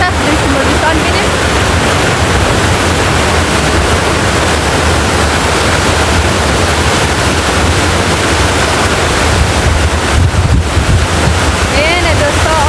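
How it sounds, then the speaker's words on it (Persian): Sea waves wash steadily onto the shore under strong wind buffeting the microphone, a constant broadband roar with no clear breaks. "اینه دوستا آو دریا را"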